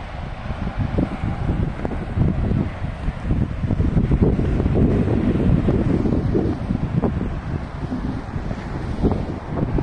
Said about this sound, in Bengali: এখন আমরা ঢেউ দেখছি, একদম কটকটে সাগরের ঢেউ